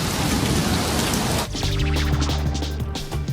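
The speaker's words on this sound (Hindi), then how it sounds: "इटली भी बाढ़ और बारिश की चपेट में। ट्यूरिन शहर में बारिश के साथ गिरे हैं ओले।" Heavy rain with hail pelting down in Turin, Italy, a loud dense hiss of drops striking surfaces that shifts midway into steady pounding with a lower rumbling undertone, no voices.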